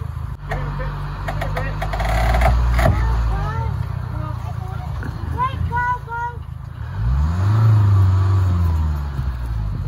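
A Volvo car's engine revs up loudly nearby in two surges, rising and falling, with people talking over it in between.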